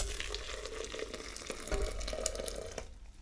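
Boiling water pours onto a powdered mix in a continuous hissing, bubbling stream, close and fairly quiet, before stopping.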